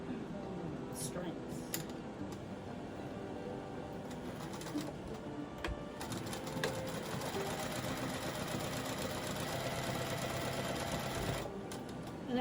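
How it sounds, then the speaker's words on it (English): A sewing machine runs a topstitch along the upper edge of a large fabric shopping bag, a steady mechanical whir lasting the whole stretch at moderate level, with faint bird cooing in the background. "I am going to run another stitch at the top, and that'll just give it extra"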